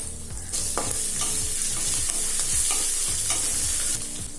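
Finely chopped green chillies and a dry red chilli fry in hot oil with curry leaves for aval upma, giving a steady close sizzle broken by several scraping spoon stirs in the pan.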